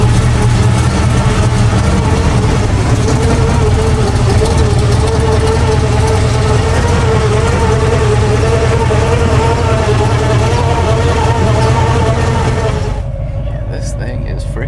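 A 1931 Ford five-window coupe hot rod engine idles with a steady, loud, lumpy low rumble from a cammed motor, close by for most of the stretch before cutting off near the end; no talk.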